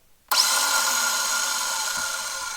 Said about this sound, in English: right now I'm just going to jump the starter, and you can see that the starter isn't making contact with the flywheel at all.